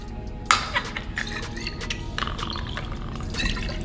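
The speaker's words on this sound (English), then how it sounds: "You pour it from bottle with the pour spot into this part" Liquid poured from a bottle fitted with a pour spout into a measuring cup, a sharp clink at the start followed by a steady, close splashing stream that runs to the end.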